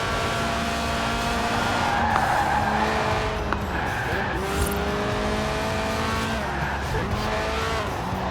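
A low, stiff-suspension track car slides hard in Forza Horizon 4, tires squealing in long sustained wails over a loud, droning engine, with the pitch sweeping as it drifts through the corner.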